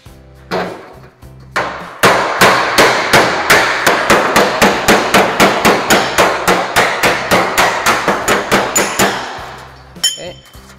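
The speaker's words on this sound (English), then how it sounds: "so that I can hammer a little bit of this smooth" Rapid, evenly spaced metallic blows of a hammer on a dolly smoothing sheet metal, around thirty sharp strikes in a steady rhythm, loud and close, with a few scattered taps before and after.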